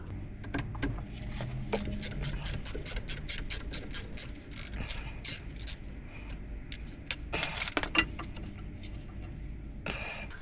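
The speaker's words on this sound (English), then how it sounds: "Let's start by disassembling these two" A ratchet spanner works the screws on a Land Rover Defender radius arm, giving rapid, close bursts of metallic clicking with short pauses and a few louder clanks between runs.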